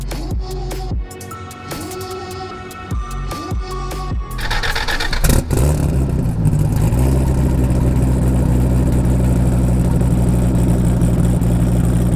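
A 1450 wheel horsepower Dodge Viper ACR engine, first with short sharp revs and pops from a loud close exhaust, then a sudden heavy surge into a sustained deep roar that holds steady to the end.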